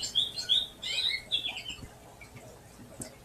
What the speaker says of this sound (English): it's birds